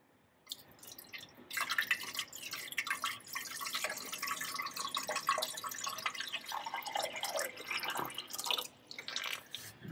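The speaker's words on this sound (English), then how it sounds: "So I'm just gonna put in water for now." Water pours into the cooling system of a 1962 Sprite, a continuous fairly faint trickling and splashing with uneven gurgles that lasts nearly the whole stretch.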